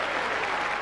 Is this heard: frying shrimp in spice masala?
no